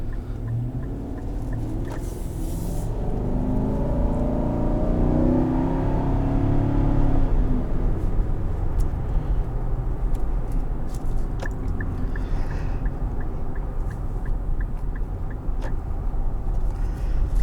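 A 2021 Infiniti QX80's 5.6-litre engine rumbles deeply, swelling as it revs, then settles into a steady low drone, with faint ticking near the end.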